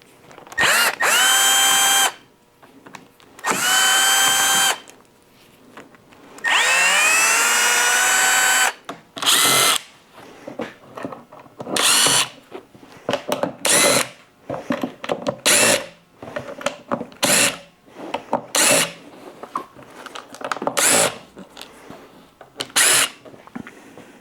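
Power drill running in repeated short bursts while backing screws out of the top front bow and trim on a VW Mk1 Cabriolet convertible top, loud and close, with whirring spin-ups separated by brief pauses and small clicks, no talk.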